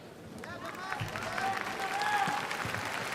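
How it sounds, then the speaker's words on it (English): Applause from a crowd at a Dream mixed martial arts event greets the fighter Jacare, steady and broad, with an announcer's voice carrying over it and a whistle or cheer rising now and then. "Jacare getting good applause."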